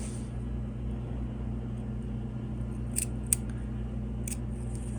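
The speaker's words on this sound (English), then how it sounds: "I'm going to cut the teeth." Scissors snipping through the teeth of a 7-inch zipper, a few sharp close clicks over a steady low background hum.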